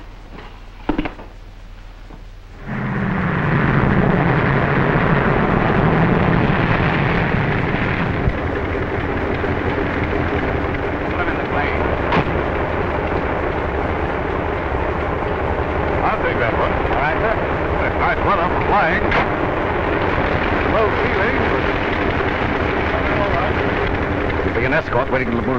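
A propeller airplane engine drones steadily in flight in a 1937 film scene, a loud continuous roar that swells in after a quieter opening and holds for the rest of the clip, with voices over it.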